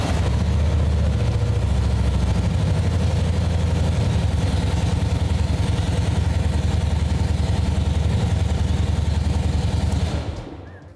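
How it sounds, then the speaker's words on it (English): A motorcycle engine runs steadily after starting, a loud continuous low throbbing idle with even rhythmic pulses, fading out at the end. "we're going to start this motorcycle up, make sure it runs okay"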